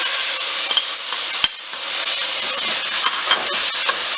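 Ketchup-laced seasoning tipped into a hot pot of Trinidad stew chicken gives a loud, continuous close sizzle and hiss, with a few small clatters.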